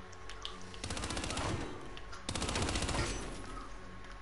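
Automatic gunfire in a first-person shooter video game, two loud, rapid bursts of shots, the second starting a little after two seconds, with faint voices in the background.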